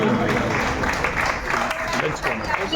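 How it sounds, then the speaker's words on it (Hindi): Steady, dense applause from an audience at a club music program, clapping continuously and fairly loud for the whole stretch after a song. "तालियां बजती रहनी चाहिए।"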